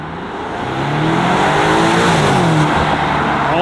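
A 2025 BMW M5 G90 hybrid sedan rated at 727 hp approaches and passes close by, its engine and tire roar building loudly and holding steady, with a subtle pitch shift as it goes past.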